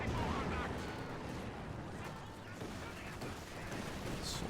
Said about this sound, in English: Good shot from the T-34, claiming his 4th kill.